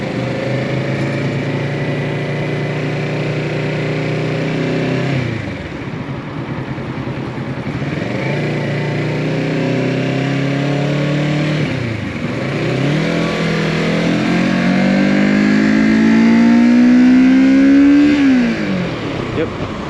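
A 2022 Kawasaki Z650 motorcycle engine climbs hard toward its 10,000 rpm redline through several gears, loud and close, with the pitch rising and then dropping at each shift, under road wind noise.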